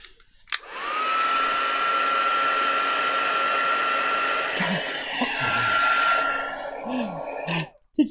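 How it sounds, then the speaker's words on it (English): A hair dryer blows steadily on a file folder journal page, a loud continuous whirring hum with a high tonal whine that runs for about seven seconds before switching off abruptly. "So let me just get my dryer, make sure everything's dry."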